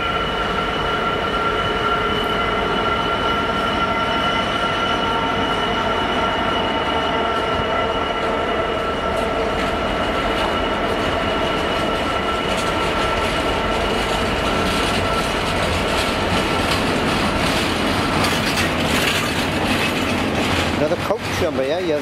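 Class 37 diesel locomotives haul a train of empty wagons on the Rhymney line at Cardiff, a loud, sustained rolling roar with steady wheel clatter and squeal throughout, while people chat nearby.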